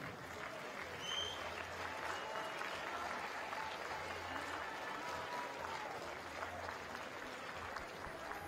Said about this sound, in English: a warm round of applause to our athletes.